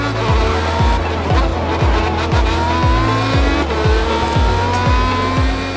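Faster open-wheel race cars in the GRID Autosport racing game, loud screaming engines climbing through rapid repeated gear shifts in a steady rhythm, with tire squeal and other cars audible close by.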